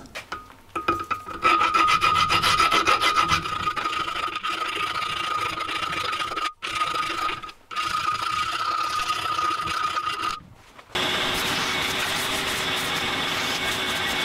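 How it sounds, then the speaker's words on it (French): A metal file rasps against rust bumps on a Renault Twingo part, loud repeated back-and-forth grinding strokes close up, with brief pauses before a different, smoother scraping texture at the end. "je crois que j'ai pas d'autre choix d'y aller à la lime"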